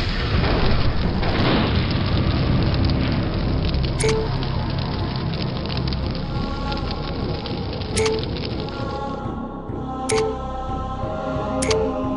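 A destroyed enemy mech exploding in MechCommander Gold, a heavy booming rumble that fades slowly, followed by several short sharp clicks from the game interface.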